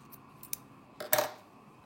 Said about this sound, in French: on peut venir couper notre fil